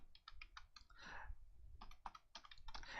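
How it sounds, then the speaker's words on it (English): Computer keyboard keys clicking in quick bursts while a web address is typed into a browser, close and clear with short pauses between clusters of keystrokes. "so here in the browser I am typing"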